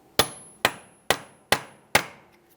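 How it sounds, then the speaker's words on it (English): A hammer strikes a punch against the centre of a rear CV axle on a 2006-2012 Ford Fusion to break it free from the wheel bearing: five sharp, evenly spaced metallic taps, close and loud, each ringing briefly. "Go ahead and tap on this area to break the axle free from the wheel bearing."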